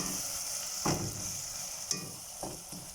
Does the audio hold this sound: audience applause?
no